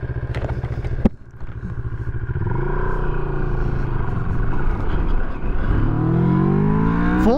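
A 2023 Moto Morini X-Cape motorcycle accelerating at full power on a street, engine note climbing through the gears after a brief clunk, loud and close with rising revs, no speech.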